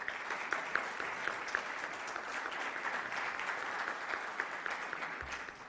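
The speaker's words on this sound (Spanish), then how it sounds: "Quisiera que le diéramos un aplauso muy fuerte." An audience at a university panel on social responsibility applauds, a steady, even patter of many hands clapping at moderate distance for several seconds.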